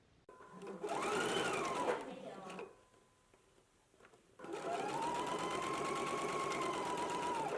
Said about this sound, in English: I'll be finishing off mine with my serger.